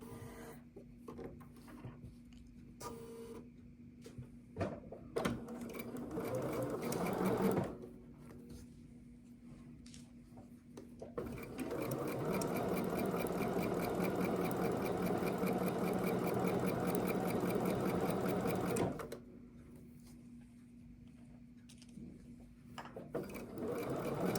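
Sewing machine stitching a quilt block, a steady close mechanical whir running for several seconds, framed by shorter stitching bursts and handling noises of fabric and thread.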